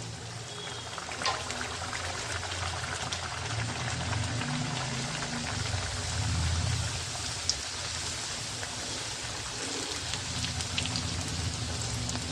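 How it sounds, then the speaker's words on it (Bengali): Kachori, stuffed fried bread, deep-frying in hot oil in a kadai, giving a steady close bubbling sizzle like light rain, with soft pops and spatters throughout and no talking. "এইবারে আমি একটা একটা করে কচুরি এর মধ্যে ছাড়ব।"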